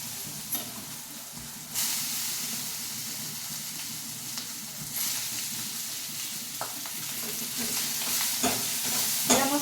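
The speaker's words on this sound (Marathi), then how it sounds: "या मसाल्यामध्ये चांगली शिमला मिरची तळून घ्यायची आहे आपल्याला तेलामध्ये" Chopped capsicum frying in hot oil with spices, a steady close sizzle and hiss with occasional stirring scrapes, growing slightly louder toward the end, no voices.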